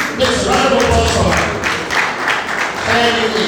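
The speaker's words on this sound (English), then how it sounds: "Yes, round of applause for" A crowd at a charity benevolent project award presentation in Abuja claps for a foundation recipient, a loud, continuous patter of many hands with voices murmuring beneath it.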